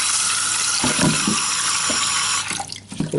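Tap water pours into a container in a home kitchen during cooking, a steady close splashing stream with a few brief changes in the flow near the end.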